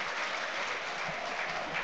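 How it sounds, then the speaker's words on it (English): Football crowd applauding at a Portsmouth (Pompey) home match against Cheltenham Town, a steady, dense wash of clapping from a large stadium audience that holds evenly throughout without any distinct voices. "Burgess nods that back to Ford and is applauded for doing so"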